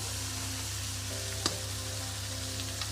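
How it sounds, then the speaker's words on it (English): A creamy chicken malai sauce simmers in a pan with a steady, soft sizzling hiss, one brief sharp tap around the middle, and no talking. "Just leave it to simmer"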